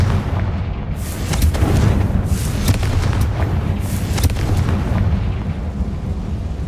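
A Confringo blasting spell explodes in Hogwarts Legacy, a dense booming burst with heavy low rumble and crackling debris that lingers over several seconds, loud and without talk.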